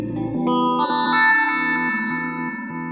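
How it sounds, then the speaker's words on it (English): A sustained electric guitar tone run through a Chase Bliss Lossy pedal, shimmering and warbling, with abrupt steppy shifts and glitchy digital packet-interruption breaks in the sound. "it just interrupts your signal with these moments of digital weirdness"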